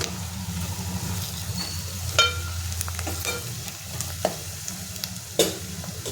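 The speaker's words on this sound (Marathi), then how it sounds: "आता ह्याच्यामध्ये आपण जे मसाले घेतलेले ते टाकून घ्यायचे आणि हे तेलामध्ये परतून घ्यायचे" Spices sautéing in hot oil with golden-browned onions for an Agri-style haldi special dal mundi, a steady close sizzle with scraping stir strokes and a few sharp clinks of the spoon against the pan.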